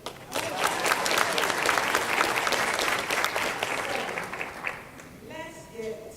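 A conference audience applauds a diversity panel, a steady round of crowd clapping lasting about five seconds before it fades out as a voice begins speaking.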